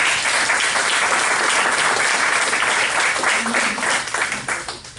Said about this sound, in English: If we can all give a round of applause.